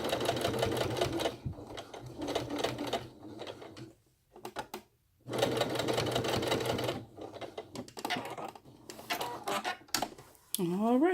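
A sewing machine runs top stitching around a drawstring backpack in steady, rapid mechanical bursts, pausing briefly between runs, with a speaking voice over the whirring needle.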